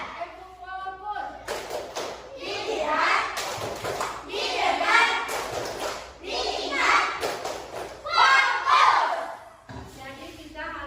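A classroom of children performs a rhythmic clap routine, bursts of quick hand claps and thumps mixed with their chanting voices, alternating with a teacher's talk.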